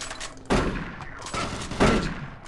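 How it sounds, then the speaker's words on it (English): Point-blank shotgun blasts in Doom 3: three loud, close booms roughly a second apart, each with a short rough tail, and no talking over them. "Point blank freaking shotgun."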